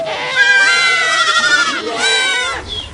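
A herd of goats bleats loudly and close by on a Moroccan mountain pasture, several overlapping quavering cries drawn out over a few seconds.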